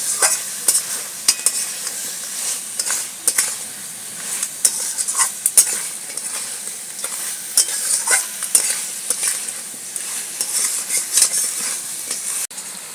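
Crab pieces fry in oil with spices in a pan, giving a steady close sizzle broken by repeated scraping and knocking strokes of the stirring spoon throughout.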